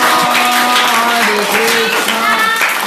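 A group claps hands rhythmically during a Hare Krishna kirtan, steady clapping blended with voices singing the chant in an indoor gathering.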